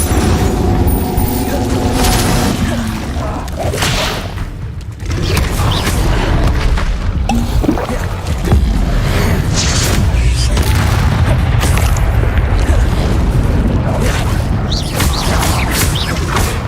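Confringo and Incendio spell blasts in Hogwarts Legacy combat: dense, loud booms and crashing impacts repeat back to back across the whole stretch, with a voice speaking over the din at times.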